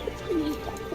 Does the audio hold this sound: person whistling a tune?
no